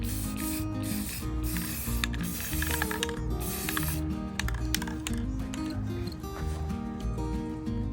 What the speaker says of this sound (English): we are gonna just kind of add a little spray paint to it